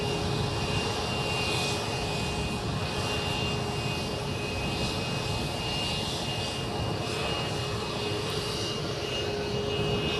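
A Loganair aircraft departs Edinburgh Airport, bound for Southampton, its engines a steady broadband roar holding level for the whole stretch at moderate distance, with no voices.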